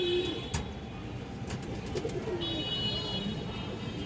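A pair of Gorra pigeons coo quietly nearby in soft, low, rolling calls over a faint background hum.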